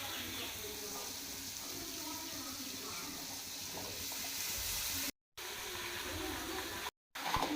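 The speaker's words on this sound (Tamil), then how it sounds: "நல்லா வாஷ் பண்ணிவிட்டு நம்ம வந்து சேர்த்துக்கலாம்." Running water splashes steadily over pumpkin pieces as they are washed in a kitchen, a continuous broadband rush that cuts out twice for a moment near the end.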